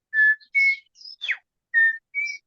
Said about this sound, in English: Is the bellbird.